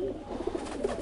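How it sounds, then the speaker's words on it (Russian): Domestic pigeons cooing close by, a couple of short soft low coos within a second over a steady background hum, with no talking. "Нет, это голубь."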